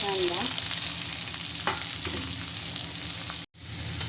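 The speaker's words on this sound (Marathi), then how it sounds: "कांद्याला छान सोनेरी रंग येईपर्यंत परतून घ्यायचा आहे" Finely chopped onion frying in hot oil with cumin in a kadai, a steady close sizzle with occasional stirring scrapes and one brief dropout near the end.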